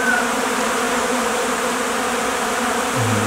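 Honeybees fly out from the hive to forage in February, a dense, steady swarm drone of many wings holding at an even, close level throughout with no voices.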